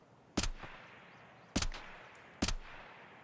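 Three separate gunshots in the video game Escape from Tarkov, set in a forest map, each a sharp loud crack with a short decaying tail, spaced irregularly about a second apart against quiet background ambience.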